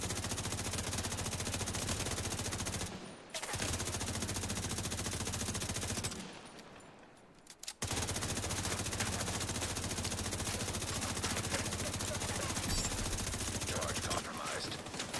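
Sustained automatic gunfire from The Division 2 during a Battle for Brooklyn event, loud and dense, with two brief breaks before the shooting resumes and keeps rattling to the end.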